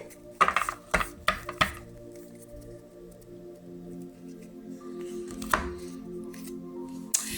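A deck of tarot cards being cut and handled, giving a few sharp close snaps and shuffling slaps early, then quieter rustling and one or two further taps over a low room hum; no voice.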